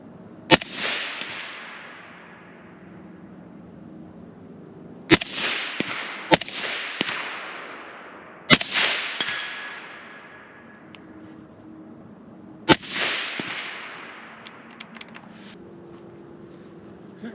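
An FN SCAR 17 rifle fires several sharp, loud single shots at irregular intervals outdoors, a couple in quick pairs, each crack trailing off into a long rolling echo.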